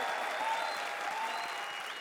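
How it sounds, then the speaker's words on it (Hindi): Studio audience applause at a comedy show, a dense continuous wash of clapping held steady and fairly loud throughout. "तालियां बजाओ उनके लिए"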